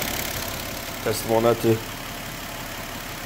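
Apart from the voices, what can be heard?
Audi A6 C6 engine idling after timing belt replacement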